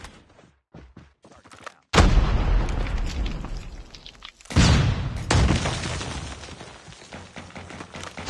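A grenade blast in a Call of Duty Search and Destroy match: loud booming explosion followed by a second heavy burst and rumbling gunfire, preceded by quieter clicks and movement.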